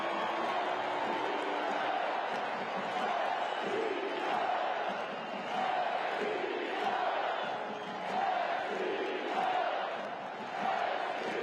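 A record crowd at a U.S. Open Cup soccer match in St. Louis roars and cheers after a goal, a dense, sustained wash of voices that swells and dips throughout.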